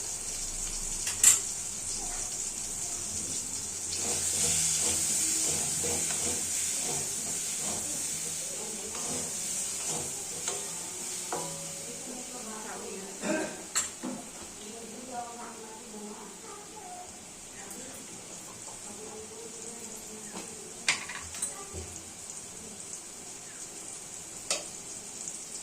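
Hog plum chutney cooks in a pan as mustard and green chilli paste go in, with a steady soft sizzle and hiss, scraping stirs and occasional utensil clicks throughout.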